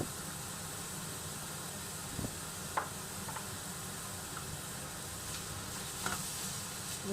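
Beef and onion fry in a wok with a steady hiss of sizzling, broken by a few faint scrapes of stirring, up close and without voices.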